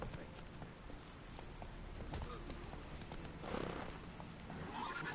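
Roach the horse from The Witcher 3 gallops with rhythmic hoofbeats and an occasional whinny, set against game ambience, while someone talks over it.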